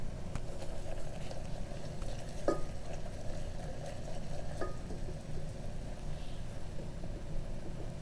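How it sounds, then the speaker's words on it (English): Flour cooking in butter and spices in a pan for a carrot casserole gives a steady, close sizzle with a low bubbling rumble and a couple of faint clinks, without pause and with no talking. "we're just cooking our flour here in our butter and our spices"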